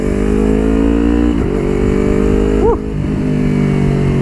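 A 2019 Yamaha New R25 motorcycle engine roars loud and steady, close up, as it accelerates, with two brief dips in the drone where the quick shifter snaps through gear changes.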